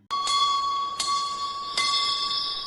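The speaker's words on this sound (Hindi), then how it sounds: "आइसक्रीम वाली घंटी।" Ice cream vendor's bell as a sound effect: three bright metallic strikes about a second apart, each ringing on with a sustained tone, loud and close with no voices.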